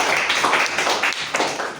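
A secondary school class applauding in a classroom, a short, close burst of dense clapping that stays fairly even for under two seconds.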